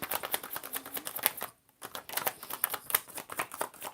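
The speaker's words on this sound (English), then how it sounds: "pull some cards for you" Tarot cards pulled and shuffled from a deck, a dense run of quick crisp flicks and slaps up close, broken by a short pause before the rapid card handling resumes.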